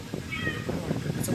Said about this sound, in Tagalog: At ayun naman si Meow Meow.